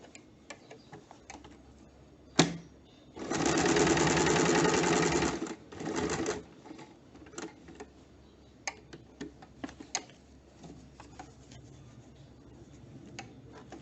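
A home sewing machine stitching a zip runs in a short burst of about two seconds, with a brief follow-up run, surrounded by quiet ticks and handling clicks.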